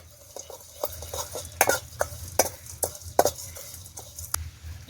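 Spices with cumin dry-roasting in a pan in a village kitchen, a run of crisp rhythmic scrapes and rattles from stirring over a low background, with no talking.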